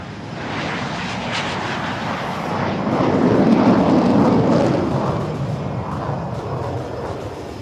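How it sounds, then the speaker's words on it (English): Jets of a nine-aircraft military display team take off in a group of three at the Aero India 2023 air show, a loud, sustained roar that swells to a peak and slowly eases, no voice over it. "The first 3 set, ladies and gentlemen, taking off right in front of you."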